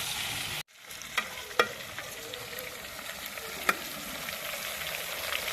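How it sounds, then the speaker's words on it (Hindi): Chicken pieces frying in a pan for biryani, a steady close sizzle with occasional sharp crackles and stirring scrapes, heard alone after a brief silence. "चिकन को हम अच्छे से गोल्डन कर लेंगे"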